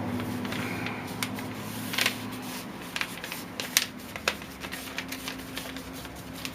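A paper photograph being folded by hand, giving soft crinkles and a few sharp creasing snaps over a low steady background hum.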